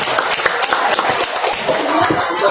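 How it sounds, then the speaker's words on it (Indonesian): Audience at an Indonesian Independence Day (HUT RI ke-80) thanksgiving night gathering in Magelang gives a short round of applause, dense close clapping with voices mixed in. "Monggo beri tepuk tangannya sekali lagi"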